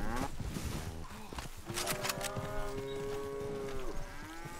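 An ox lows in Red Dead Online, a long drawn moo running for several seconds after a few brief rustles and knocks, fairly close and clear, with game ambience around it.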